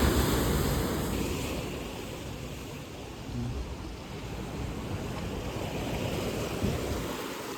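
Sea waves rolling onto Virgin Beach near Udupi, a steady close roar of surf with wind buffeting the microphone throughout, no voices.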